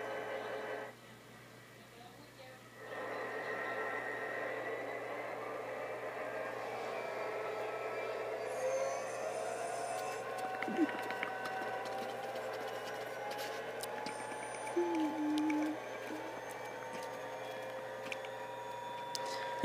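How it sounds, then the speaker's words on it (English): A RENFE 333 diesel locomotive departing in the Trainz Simulator 2 video game, a steady low engine drone with tonal hum and occasional squeals and clanks, fairly quiet and continuous throughout. "Anyway, let's watch this train go."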